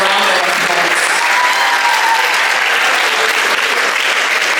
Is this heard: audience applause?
yes